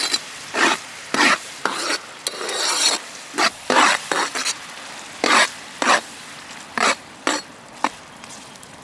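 Buffalo tongue meat frying in a pan for a village-style pepper fry, giving repeated short bursts of sizzling and scraping as it is stirred, close and fairly loud, with no talking.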